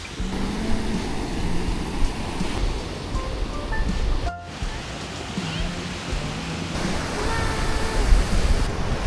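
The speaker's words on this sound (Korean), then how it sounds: "여기는 거기보다는 파도가 좀 잔잔한 것 같아요" Continuous surf rumbles and hisses on a beach in Kochi, India, waves breaking steadily and fairly loud, with faint voices mixed into the wash.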